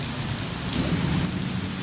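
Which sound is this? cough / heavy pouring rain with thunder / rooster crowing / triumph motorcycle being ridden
heavy pouring rain with thunder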